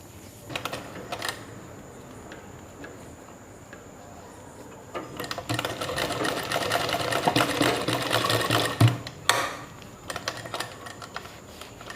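A sewing machine runs steadily while stitching a two-year-old's pyjama pants, starting in short bursts and then holding a long, loud continuous run close to the microphone with no talking.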